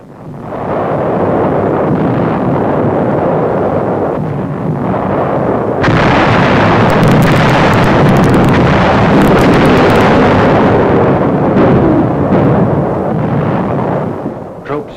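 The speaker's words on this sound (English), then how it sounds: "General Buckner, commander of the new U.S. 10th Army, observes the naval bombardment" A naval bombardment pounds the shore during the Okinawa landings, a loud, continuous rumble of shelling and blasts that swells into an even heavier roar midway before easing off.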